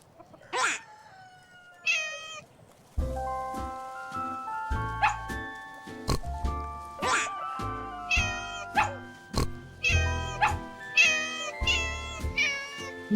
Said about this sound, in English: No, that's a kitten's meow.